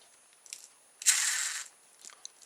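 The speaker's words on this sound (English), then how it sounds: "It's got a little pull-back motor on it" The small pull-back motor in a heavy plastic toy plane kit gives a brief, bright whirring rattle lasting about half a second, set among a few faint clicks and ticks.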